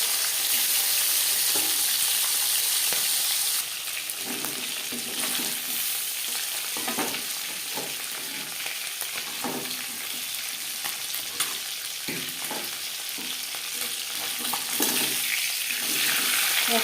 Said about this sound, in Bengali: তেল আমি গরম করে নিয়েছি। এবার দিয়ে দেবো মাছ।